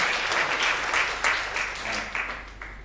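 A church congregation at a Sunday worship service claps together in sustained applause, a dense wash of hands that swells and eases in waves and carries on throughout.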